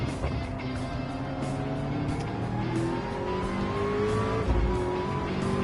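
Race car in Gran Turismo 7 at Daytona spinning its tires on a straight under throttle, a steady loud engine drone with rising whine and tire noise throughout, no talk.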